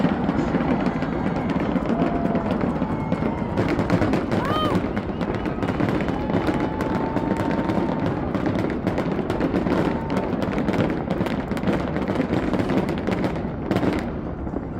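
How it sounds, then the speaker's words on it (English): Continuous loud booming and crackling of a Las Vegas fireworks display, with dense overlapping bursts and pops throughout and a steady rumble beneath, with no voice. "if you haven't checked out those fireworks in Vegas, check them out"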